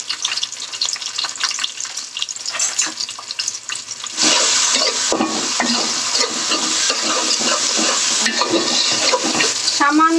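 Dried fish and aubergine mash fry in a pan. A soft crackle with stirring scrapes comes first, then a sudden loud, sustained sizzle takes over from about midway, close by and without talk.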